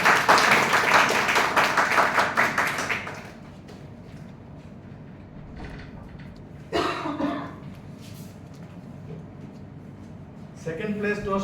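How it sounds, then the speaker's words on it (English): Audience applause at a Toastmasters speech contest awards announcement: dense, loud clapping for about three seconds that then stops, followed by quiet room noise and brief voices. "Please give a big round of applause."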